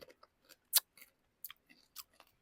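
Moringa chips with sour cream flavor crunched between the teeth in a few sharp, close bites spread over a couple of seconds, each a brief crisp snap with quiet gaps between.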